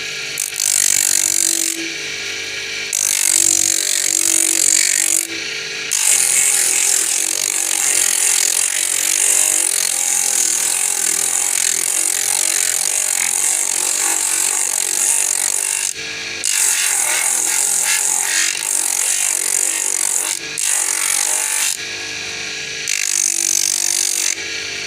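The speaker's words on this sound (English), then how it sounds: "we'll file this side out so that the top heel can sit" A hand file rasps against the side of a slipper heel in steady back-and-forth strokes, close and loud, with a few short pauses between bursts of filing.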